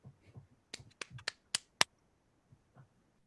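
Sharp hand claps in a tabletop role-playing pattern game, a quick sequence of about five close, crisp claps in a row with faint murmuring around them in a quiet room.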